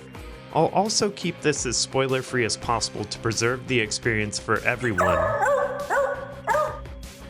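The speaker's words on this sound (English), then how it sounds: "That was my dog Sam" A dog named Sam barks in short, sharp yips and bow-wows scattered through the clip, close and fairly loud, mixed in with someone talking steadily over them.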